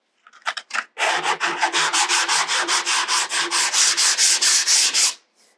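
A painted furniture piece is sanded by hand with 180-grit sandpaper: a few short scratchy strokes, then a steady run of brisk, evenly spaced rubbing strokes, close and fairly loud, with no talking.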